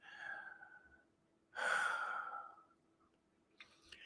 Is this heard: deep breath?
yes